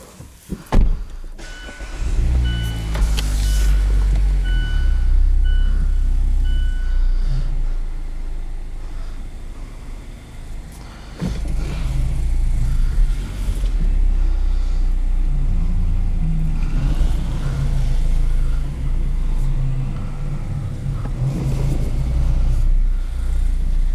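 A Mazda MX-5 Miata is driven out of a dealership showroom: a door clunk, the engine starting and idling with a low rumble, a brief dip, then steady engine and rolling noise up close.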